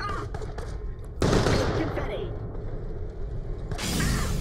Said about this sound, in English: Oh god, where am I being fired on at?